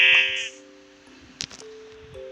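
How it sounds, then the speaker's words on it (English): A sheep in the Minecraft video game bleats loudly at the start, a short wavering call heard alone, followed by quieter game sounds and a brief click. "And that sheep right there, I'm gonna lead it to my farm."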